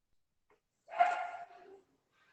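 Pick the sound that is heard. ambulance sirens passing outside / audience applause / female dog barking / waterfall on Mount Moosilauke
female dog barking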